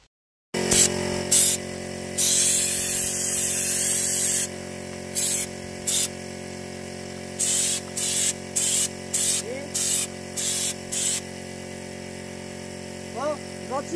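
Short bursts of Raptor coating being sprayed onto a Citroën C25 van outdoors, a steady hiss cutting on and off in repeated pulses over a constant low hum, with a few faint chirps near the end.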